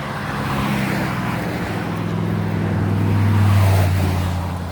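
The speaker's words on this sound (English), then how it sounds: "Oh, hot rod." A hot rod car drives past outside on farm property, its low engine rumble building steadily and peaking near the end, fairly close and alone with no talking.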